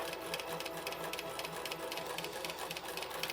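A sewing machine runs steadily while back stitching an embroidered Christmas stocking, its needle clattering in a fast, even mechanical rhythm throughout.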